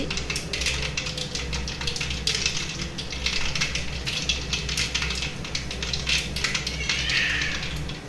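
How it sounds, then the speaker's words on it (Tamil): Mustard seeds pop and crackle in hot oil in a pan, a dense, continuous sizzle of rapid close sputters over a low steady hum, with no talking. "கடுகு பொரிஞ்சிச்சு"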